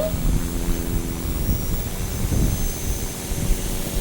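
A Bell helicopter, a 206 B3, flies overhead with a steady, loud rotor and engine roar that swells and fades slightly throughout, with no talking.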